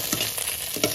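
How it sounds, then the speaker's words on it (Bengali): Fish frying in hot oil in a village kitchen, a steady crackling sizzle with a few louder pops and stirring scrapes, close and alone. "মাছটাই আজকে লাল লাল করে ভাজছি।"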